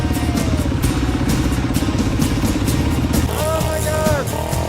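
A Yamaha TTR 250 motorbike engine runs steadily through water on a Cambodian jungle track, its loud, close mid-pitched throb continuous throughout, with clattering splashes and a brief rising whine near the end.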